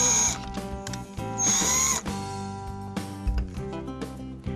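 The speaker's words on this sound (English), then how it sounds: "Drill through the existing hole" A power drill boring through an existing hole in the wooden end piece of a DIY cornice frame kit, two loud whirring bursts over steady background music.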